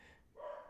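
A house dog gives a short bark or yip, quiet at first and then swelling louder partway through, close by, with no talk over it.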